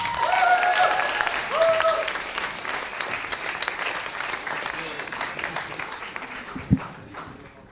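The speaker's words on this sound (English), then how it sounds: "Give her a warm round of applause." An audience claps steadily, loud at first and slowly thinning out, with a few voices and whistles mixed in.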